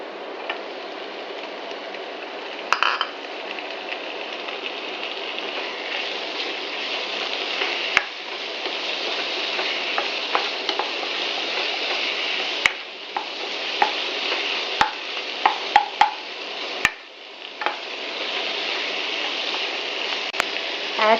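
Onions and tomatoes fry in a pan for a cauliflower and green pea curry, giving a steady close sizzle with scattered sharp pops and spoon scrapes throughout.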